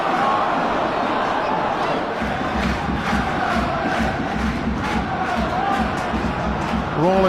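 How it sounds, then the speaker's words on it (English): Football crowd roaring at a Notts County match, a loud, dense and steady wall of cheering from a packed stadium lasting throughout, with no clear voice standing out on top. "The crowd roaring Notts County forward."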